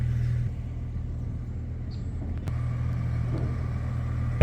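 Porsche 911 fitted with a Soul Performance exhaust, headers and downpipes, giving a steady low rumble from inside the car while cruising, with a faint click near the middle.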